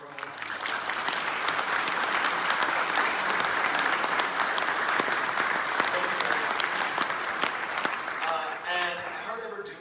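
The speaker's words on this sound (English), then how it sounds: "So can we get a round of applause for the plug for our alumni?" A senior concert audience breaks into sustained, dense applause with sharp individual claps throughout, holding steady for most of the stretch before tapering as a voice starts to speak.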